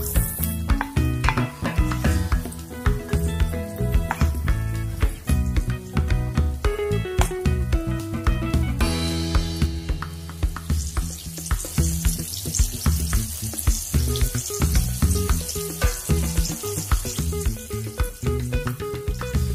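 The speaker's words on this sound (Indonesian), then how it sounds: "Panaskan margarin lalu masukkan apelnya." Apple pieces frying in hot melted margarine in a pan, a loud continuous sizzle with crackling pops and occasional stirring scrapes, close up and without talk.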